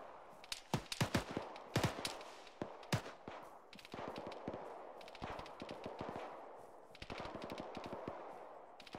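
Gunfire from an AI-controlled soldier in a military video game, with rapid bursts and single shots repeating steadily, sounding somewhat distant, with no talking.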